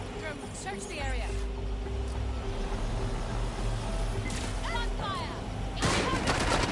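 Gunfire in the video game Watch Dogs Legion, with bursts of shots over a constant low rumble, a sharper volley near the end, and game voices heard in between.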